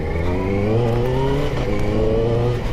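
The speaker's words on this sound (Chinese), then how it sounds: "发动机很顺。" A QJmotor Race 600RR motorcycle engine revs loud and close, its smooth, steady drone rising slightly in pitch throughout the short burst with no voices over it.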